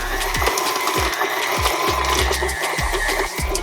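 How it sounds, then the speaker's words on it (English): Electric stand mixer creaming butter and sugar for a Guyanese sponge cake on medium speed, a steady motor whir with a rhythmic thumping beat of the beater, close and continuous with no talking. "First thing I'll do is I'll start by creaming my butter and sugar together."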